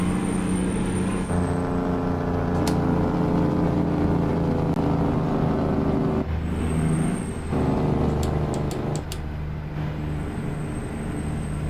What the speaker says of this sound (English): what you're hearing is a whole bunch of hot air spitting out the exhaust stacks